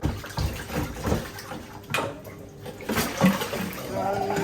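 Running water splashing from a kitchen tap during a rinse while cooking coconut curry tofu, close and uneven, with voices talking over it.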